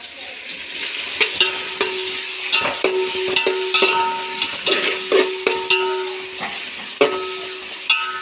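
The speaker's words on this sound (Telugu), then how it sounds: "ఇప్పుడు బొనుగులు నూనె పెడతాము పోపు అయ్యేలోపు" A Rayalaseema-style tempering crackles and sizzles loudly in hot oil while a spoon scrapes and stirs the pan, giving repeated sharp clinks over a steady frying hiss, close up with no talking.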